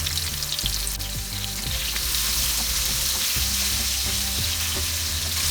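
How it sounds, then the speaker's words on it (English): Baby potatoes shallow fry in hot oil in a pan, giving a steady, close sizzle with occasional crackles and pops, and no talking. "First we will fry the potatoes."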